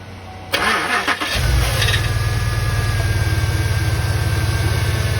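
A Pontiac Grand Prix GXP with a bad harmonic balancer cranks briefly, then catches and settles into a loud, steady, close idle with a rough pulsing rhythm.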